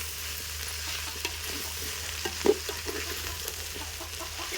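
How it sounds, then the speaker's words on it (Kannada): Amaranth (rajgira) palya being stirred as it fries in a pan: a steady low sizzle runs throughout, with soft irregular scrapes and taps of the spoon, one sharper knock standing out, and no talking. "ಈಗ ಪಲ್ಯ ನೋಡ್ರಿ ತಿರುಗ್ಲಕತ್ತೀನಿ ರೀ"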